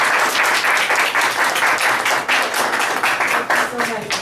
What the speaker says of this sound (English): Did I get a round of applause?